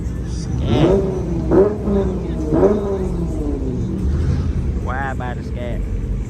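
Dodge Scat Pack with a Hemi engine revs at a car meet, a few rising throttle blips over a constant outdoor rumble, with people talking nearby.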